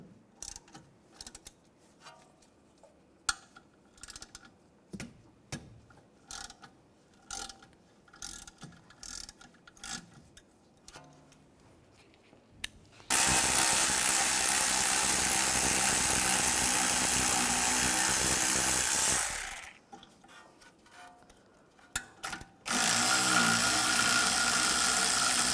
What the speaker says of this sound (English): Now I'm going to use a 7mm hex socket. Take these bolts out.